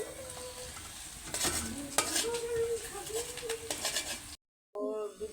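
Onions sautéing in oil in a pan for a pangas fish curry, with a steady sizzle and repeated scraping stirs of a spatula; a voice talks over part of it, and the sound drops out briefly near the end.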